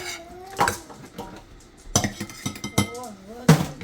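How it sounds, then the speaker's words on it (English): Macaroni and cheese with sausage spooned into a child's lunch container, with a few sharp clinks and scrapes of a utensil against the container in short bursts, close by, with brief speech between them. "I'm just gonna fill Michaela's container up"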